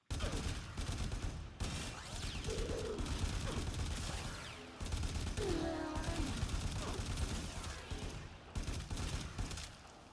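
Weapon fire from the shooter game Warframe, heard as loud, sustained automatic bursts of gunshots with brief pauses between volleys and small impact and chirping effects mixed in.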